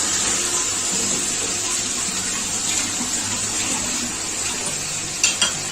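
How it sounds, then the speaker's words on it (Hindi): Water poured into a pot of roasting spices while making chana pulao, a steady, fairly loud rushing hiss that runs unbroken throughout with a few small clatters near the end and no talking. "थोड़ा सा हम इसमें पानी शामिल कर लेंगे"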